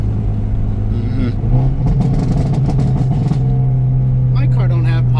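Hyundai Elantra N pulling hard under acceleration, with a steady loud engine drone rising in pitch and quick shifts that briefly interrupt it, heard close from inside the cabin.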